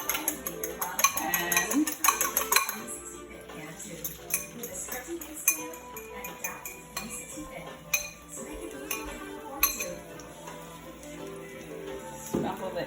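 A fork beats salted eggs in a bowl for a home chicken stir fry, giving rapid, close metallic clinks and taps in bursts, with brief pauses and a word or two of talk.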